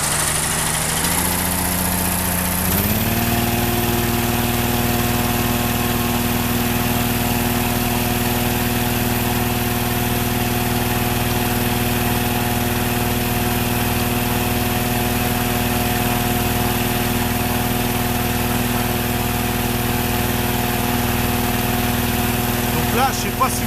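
Inflator fans or burners roar steadily and loudly as a hot air balloon fills at a launch site, with a constant engine-like drone and a rise in pitch near the start, while a person talks over it.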